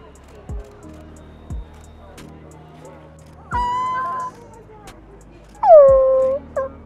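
A Pomsky gives a couple of high whining whimpers and short yips near the end, after a few soft thumps in a quiet setting.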